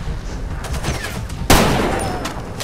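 Incoming gunfire in Far Cry 2 aimed at the player: a dense crackle of distant shots capped by one sharp, loud report near the end that rings out and decays, with no speech.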